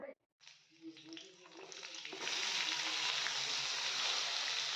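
Cumin, chopped garlic and chilli hit hot oil in a wok with boiled chowmein and pasta, starting with light crackles and scraping stirs, then swelling into loud, steady sizzling frying close by.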